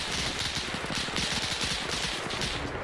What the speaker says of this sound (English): But look at that incoming fire.